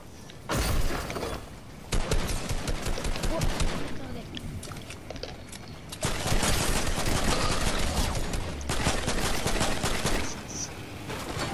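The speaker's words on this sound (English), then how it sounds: "We've got people shooting at us." Rapid gunfire from a Fortnite match crackles in dense, sustained bursts with brief gaps, loud and close, mixed with other game sounds, and players talk over it.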